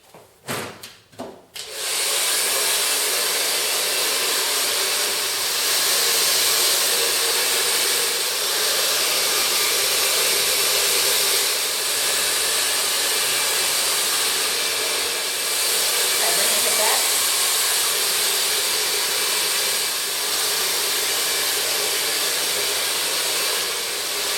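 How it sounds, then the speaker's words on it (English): A hair dryer blows steadily on long curly hair, a loud continuous airflow roar that starts after a brief moment and runs without pause, with faint rubbing and shifting in the background. "I'm going to blow dry her hair from scalp to ends"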